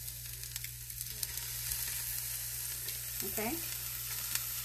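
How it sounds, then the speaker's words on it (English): A steady, close frying sizzle of a dipped tortilla in a pan fills the clip, with one brief word spoken near the end. "Let that sizzle"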